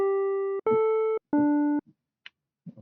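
FM-synthesized electric piano on an M8 tracker, its modulation ratio raised for a glassy, bell-like tone: three sustained held notes stepping downward, each cut off cleanly, followed by a few faint clicks and soft blips.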